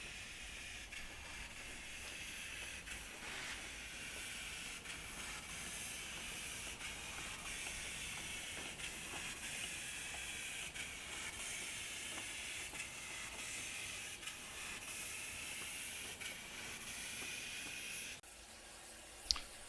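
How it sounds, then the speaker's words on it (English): A continuous broad hiss like venting steam from the Tren del Fin del Mundo in a station, steady and fairly loud, with a faint low mechanical rumble and a brief knock near the end. "we'll see the train unhitch, move to the front of the train"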